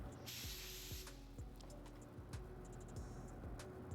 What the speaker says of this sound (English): I like to spray a little faster.